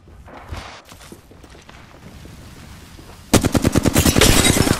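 Rapid automatic gunfire in the video game Apex Legends, loud and close, breaking out as a dense burst of evenly spaced shots after a stretch of quieter in-game movement and faint sounds.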